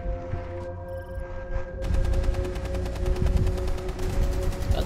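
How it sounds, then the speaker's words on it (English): Rapid automatic assault rifle fire in a video game, a dense loud rattle of shots starting partway through and continuing to the end, with other game sounds beneath. "Look like an assault rifle you got killed by."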